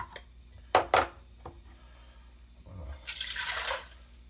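Homemade beef broth is poured into a cooking pot on a stovetop, a rushing liquid splash heard at close range after a few clinks of dishes and a brief low voice.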